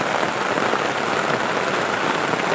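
Heavy outdoor rain pours down steadily in a rural coconut-farming area at night, a loud, dense, unbroken hiss of drops close by with no voices.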